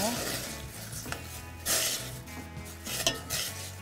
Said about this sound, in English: Just give that spinach a quick stir.